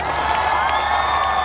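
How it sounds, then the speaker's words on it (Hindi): A comedy show audience in Sikar breaks into loud, steady cheering and clapping, a dense wash of crowd noise filling the brief moment without a pause. "और जोरदार तालियां।"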